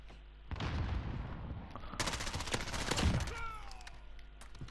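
Rapid automatic bursts from an AS Val rifle in a shooter video game, loud crackling volleys after a short pause, then a sustained stream of shots with ringing tails fading at the end.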